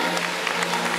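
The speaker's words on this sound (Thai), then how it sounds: "ขอเสียงปรบมือ" An audience at a Thai bodybuilding championship applauds the winner with a brief, steady wash of clapping and a background hum underneath.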